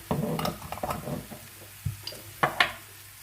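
Utensil scraping and clinking in a bowl while stirring a spiced meatball mixture with salt and sweet red pepper, a few close irregular knocks and scrapes in quiet surroundings.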